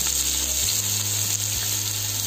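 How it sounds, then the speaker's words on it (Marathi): Four lengthwise-sliced onions frying in hot oil with bay leaves, a loud, steady, close sizzle with a couple of faint stirring knocks, no voices. "ते आपण 4 कांदे ते उभे कापून घेतलेत ते तेलामध्ये छान परतून घेऊयात।"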